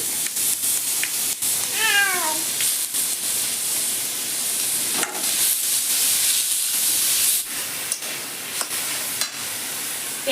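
Chopped onion goes into hot oil with frying onion and garlic, a continuous bright sizzle and hiss throughout, with a cat meowing briefly early on and no talking.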